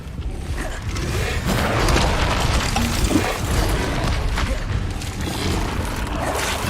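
An Incendio fire spell cast in a Harry Potter video game, a loud, sustained roaring whoosh with crackling texture and faint mechanical creaks, steady throughout without speech.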